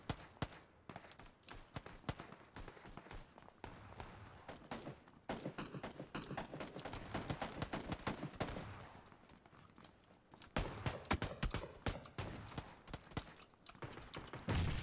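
Rapid automatic gunfire from a fast-firing gun in PUBG pours out in long, dense bursts with only brief pauses, the shots crackling steadily and growing louder toward the end.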